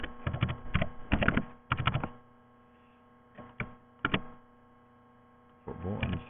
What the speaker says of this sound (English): within this code block here we're going to type